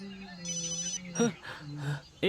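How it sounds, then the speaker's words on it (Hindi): A phone rings with a melodic electronic ringtone, tonal beeping notes repeating over about two seconds, with voices speaking over the end of it. "उसी का फोन है।"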